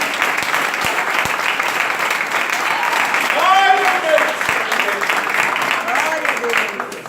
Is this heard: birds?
no